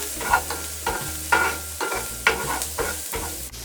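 Onions fry in ground beef fat, a close sizzle broken by several bursts of stirring as a utensil scrapes and tosses them in the pan.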